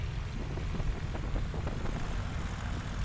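Propeller aircraft at a STOL competition taxiing, a steady droning engine hum with a throbbing low rumble, moderately distant and continuous.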